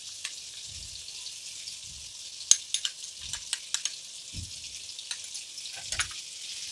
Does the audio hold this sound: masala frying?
yes